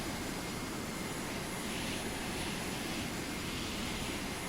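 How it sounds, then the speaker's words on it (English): Continuous steady engine drone of an aircraft heading for a carrier runway in the naval video game Carrier Command 2, a broad even roar holding level throughout with no talk. "we got an aircraft. Looks like it's headed for the runway."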